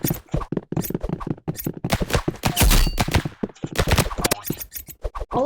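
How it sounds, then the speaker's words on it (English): Rapid bursts of dagger throws in the Roblox shooter Rivals, sharp clicky transients fired in quick uneven volleys, loud and close, with some voice mixed in. "dagger throwing"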